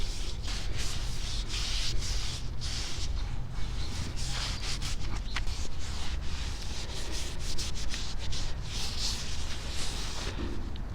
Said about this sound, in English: So the next thing you want to do is just clean off the drum brake.